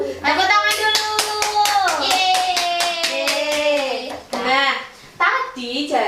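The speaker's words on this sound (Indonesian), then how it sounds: "Tepuk tangan dulu." High-school students in a classroom clap together after a group presentation, a run of sharp rhythmic claps mixed with children's and teacher's voices cheering and speaking over them.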